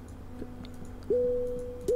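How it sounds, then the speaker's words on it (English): Game interface tones from clicking buttons in the puzzle game Mini Metro: a soft tick, then two bright sustained musical pings that ring steadily, close and clear, with no voices. "Or maybe it's just me clicking on buttons."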